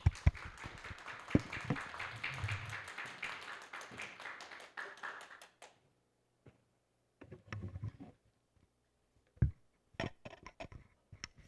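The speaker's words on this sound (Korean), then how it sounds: "오늘 손하철 교수님 박수로 환영하겠습니다" Audience applause welcoming Professor Son at a Christian lecture series, a dense burst of clapping that fades out after about five seconds, followed by scattered isolated claps and small taps.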